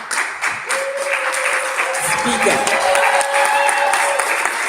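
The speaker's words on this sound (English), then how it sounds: "let's clap our hands." Audience clapping at a South Sudan women's Valentine's Day breakfast meeting in the Pyramid Hotel, Juba, sustained and fairly loud, with a voice speaking over the applause.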